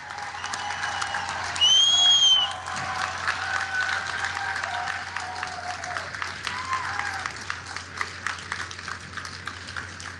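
An audience at a speech honoring New York victims bursts into sustained applause, a dense wash of clapping that carries on steadily, with a loud shout or whistle early on.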